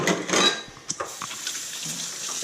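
Tap water runs into a kitchen sink during handwashing, a steady hiss heard close with a few small clinks of dishes and light knocks, and no talking.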